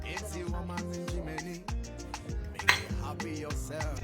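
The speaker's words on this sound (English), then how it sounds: "So here we are putting our well-washed gizzard in a cooking pan." Washed chicken gizzard going into a cooking pan, a run of clinks and metallic knocks of pieces and utensil against the pan, close and fairly crisp, with one sharper clank midway.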